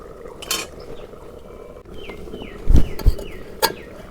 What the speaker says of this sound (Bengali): ঢাকা দিই।